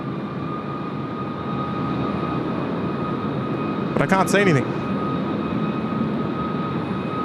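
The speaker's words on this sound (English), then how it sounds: "There must be something in the jet base doing an engine run, because it's quite loud." A steady, loud jet engine run-up roar at Sydney Airport holds throughout at a distance, with a person briefly speaking in the middle.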